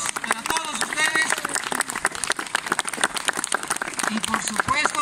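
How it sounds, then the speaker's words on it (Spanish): Crowd applause at an outdoor town festival with pyrotechnic bull burning in Santo Domingo Tonaltepec, clapping mixed with voices and cheers throughout, fairly busy and steady. "Un aplauso para nosotros, para todos ustedes."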